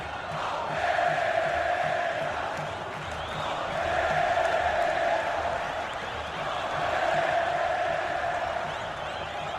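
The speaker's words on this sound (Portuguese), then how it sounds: "provoca esta reação na torcida do Palmeiras" A large stadium crowd of Palmeiras supporters roars at Morumbi during a 2008 Campeonato Paulista derby against Corinthians, a sustained wall of cheering and chanting that swells and eases in waves, heard from a distance.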